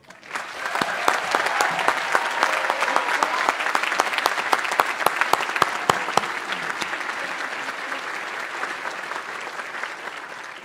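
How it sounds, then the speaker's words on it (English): Standing audience at a school prize day giving loud, sustained applause, dense clapping with sharp individual claps near the front, building quickly and holding for several seconds. "give a loud round of applause in honor of the Macubelas"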